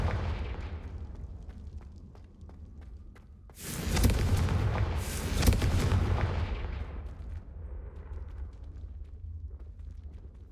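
Confringo fire spell from Hogwarts Legacy bursting in a loud, roaring blast that swells and crackles for a couple of seconds before fading back into a low rumbling game backdrop.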